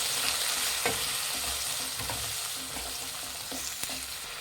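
Chopped tomatoes and onions fry in a pan for hotel-style sambar, a steady close sizzle broken by scraping stirs and the knock of a spoon throughout.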